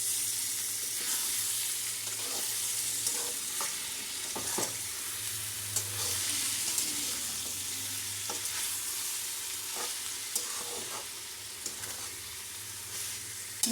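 Squeezed, soaked meal maker soya chunks are stirred in a frying pan, giving a soft, steady sizzle with scattered scraping clicks from the spoon, fairly quiet and with no talking.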